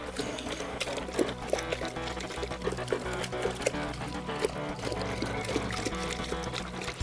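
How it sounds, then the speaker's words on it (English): Gold concentrate is washed down into a bucket with water, a continuous pouring and splashing with scattered clinks and scrapes, fairly close and steady, with no talk. "we'll take and wash all this material on down inside the bucket"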